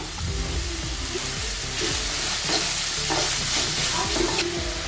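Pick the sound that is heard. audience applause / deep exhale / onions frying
onions frying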